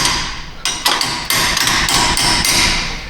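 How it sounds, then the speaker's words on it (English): Repeated hammer blows knock a bearing race out of the rear axle of a 2012 Jeep Wrangler, metal-on-metal strikes landing close and loud in an irregular rapid series, with no voices. "Knock this bearing race out while we're right here."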